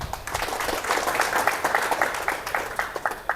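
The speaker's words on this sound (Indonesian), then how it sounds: "Mohon tepuk tangan Bapak sekalian." Audience members at a charity motor-scooter event applaud, with a steady patter of moderate clapping in which a few individual claps stand out near the end.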